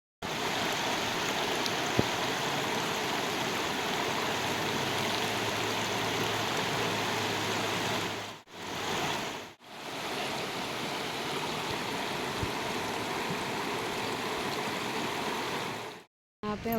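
Water of the Ganges river flowing at a bathing spot, a steady, full rushing wash that runs close and loud, cut by two short breaks partway through.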